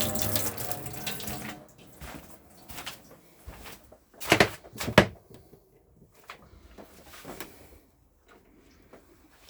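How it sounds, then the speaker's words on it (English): Water runs from the taps of a 2005 Lunar Ultima FB caravan as the system is drained, with a gushing flow that fades into intermittent splashes, clunks and a cupboard or door knock. "You'd open all the taps up in the central position"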